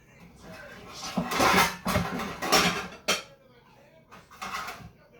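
Metal baking pans clatter and bang in a kitchen cupboard while someone hunts for a 9-inch pan, with several loud, irregular clanks and scrapes and quieter rummaging between them.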